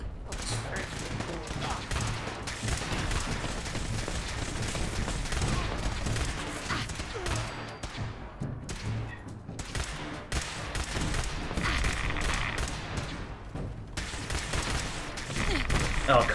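A gamma gun fires in Fallout 4, mixed with other gunfire into a dense, sustained barrage of rapid shots running the whole time under a voice.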